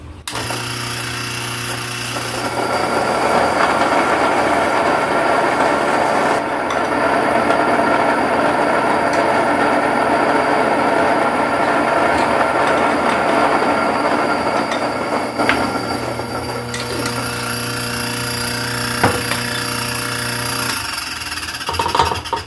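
A loud, steady grinding roar of a grain mill milling ancient grain into flour, running continuously, with a constant mechanical whine and hum, starting and stopping near the ends.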